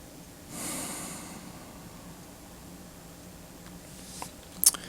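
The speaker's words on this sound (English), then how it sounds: "So let's start with 3 deep breaths." A person takes a slow deep breath during a guided breathing exercise. A broad airy inhale swells near the start and fades over about a second, followed by quiet room tone and a couple of faint sharp clicks at the end.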